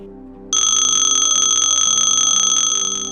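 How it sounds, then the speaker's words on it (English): A school class bell rings, starting abruptly after a short pause and holding a loud, steady bright tone through to the end, with no voices over it. "And that is the bell. Class is now over"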